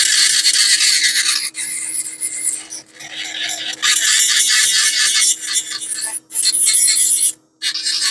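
A dental burr grinds and smooths an acrylic denture base in close, loud rasping passes, broken by brief pauses.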